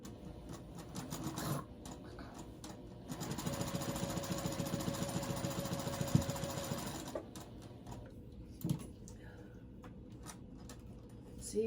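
A home sewing machine stitches fabric in a sewing room, a steady mechanical whir running for about four seconds in the middle, with quieter handling sounds before and after.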